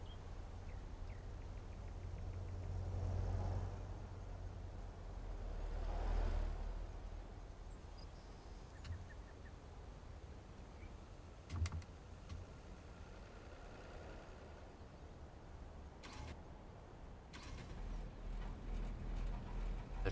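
A taxi engine in the video game Taxi Life runs with a low, faint, continuous hum that swells slightly at times, with occasional soft knocks and no talk.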